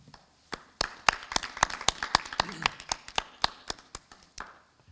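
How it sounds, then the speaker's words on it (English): Sparse applause for the graduating class of 2020 at a high school commencement ceremony, with individual claps sounding distinctly in an irregular, steady pattern that stays fairly close throughout. "a round of applause for the class of"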